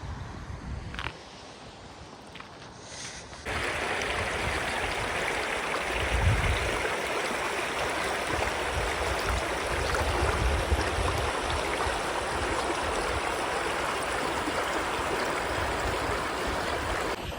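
Shallow village river in Panchmahal, Gujarat, running low over its bed, a steady close rushing wash that starts abruptly after a few quiet seconds and continues evenly with no talk.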